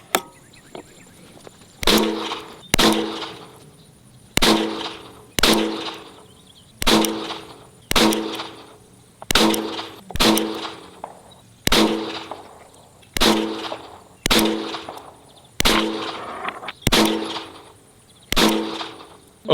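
Pistol shots fired one at a time with PMC 124 grain ammunition in a stock muzzle rise test, about thirteen loud sharp cracks at a steady pace of roughly one every one to two seconds, each ringing briefly, with no talk.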